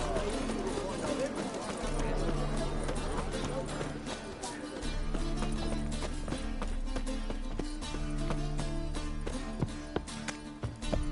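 Horse hooves clip-clop in The Witcher 3: Wild Hunt on PS4, a steady run of hoofbeats heard under ongoing character dialogue and a musical score.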